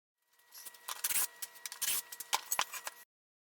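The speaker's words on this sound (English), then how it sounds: "Each slot has to be sanded to get all the fuzzies off, so the bolt will slide smoothly." Hand sanding inside a slot cut in a wooden chuck, short scratchy rubbing strokes in irregular bursts, close and fairly quiet, alone with no talking.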